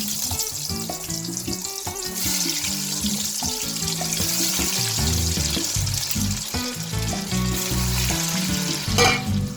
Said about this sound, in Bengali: আমাদের তেল গরম হয়ে গেছে, তাই তেলের মধ্যে আলুগুলো ছেড়ে দিলাম।